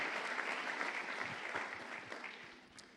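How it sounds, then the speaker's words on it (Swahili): A church congregation breaks into steady, sustained applause at a French and Swahili sermon service, a dense wash of clapping that fades slightly toward the end. "Nous pouvons acclamer très bien la parole du Seigneur."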